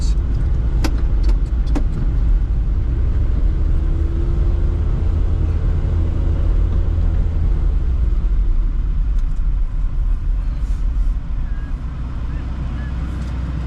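A classic Mini Cooper RSP on a road test, its engine, which cuts out off full choke, giving a loud, steady rumbling drone heard close from inside the car throughout, with no break in the noise.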